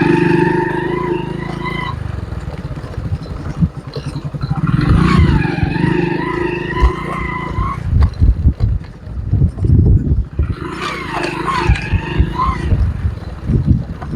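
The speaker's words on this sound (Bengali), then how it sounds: "আমি আমার মোটরসাইকেল নিয়ে যাচ্ছি" A motorcycle is ridden along an uneven, bumpy elevated metro road, its engine droning steadily with wind rush and jolting thumps, and tonal sounds rising over it at intervals.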